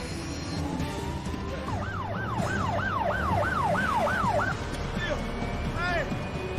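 Police car sirens wail in a steady rising-and-falling cycle as the cars surround an airport in a prison escape movie scene, loud over a dense rumble of vehicles and background commotion.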